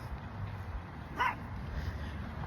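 A dog in a residential neighborhood lets out a single short, faint bark partway through, heard at a distance over steady outdoor background noise.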